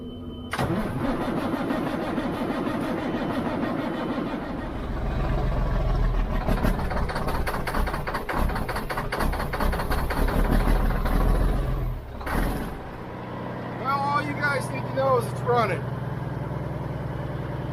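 A stubborn engine cranks several times on a cold morning with a heater too small to warm the tank, catches, and rumbles into a rough idle, with people talking over it near the end.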